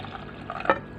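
Water from a glass of drinking water splashes briefly onto food in a pan, a single short pour rising and fading in a quiet kitchen.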